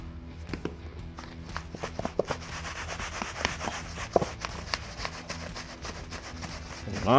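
Seasoning rub, Pyro Candy, is worked by hand onto pork belly for burnt ends: soft, irregular rubbing and patting sounds, close but fairly quiet, continuing for several seconds.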